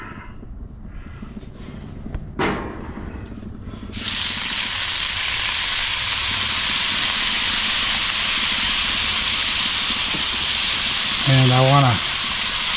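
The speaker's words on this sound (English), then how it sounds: "I'm going to start with these ones that were in the box, and I'm going to put down a little bit more oil." Hash browns hitting oil on a Blackstone griddle burst into a loud, steady sizzle and hiss that continues unbroken; someone speaks briefly near the end.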